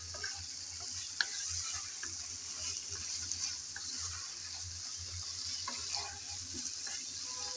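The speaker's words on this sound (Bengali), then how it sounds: "বেশ কিছুক্ষণ ভালোভাবে নেড়েচেড়ে আমি কষিয়ে নিলাম।" Onion masala for prawn do-pyaza sizzles steadily in a pan while being stirred, a dense frying hiss with occasional scrapes and knocks close by, no talking.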